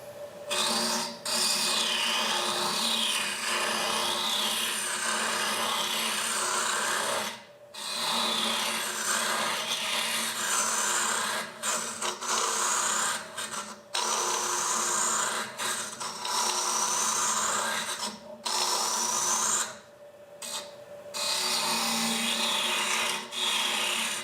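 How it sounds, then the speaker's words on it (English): Wood lathe undercutting a vase, the turning tool rubbing and rasping steadily through packed wood shavings, loud and continuous with a few brief pauses. "So we're going to start undercutting now, and again it's going to keep clogging up with shavings"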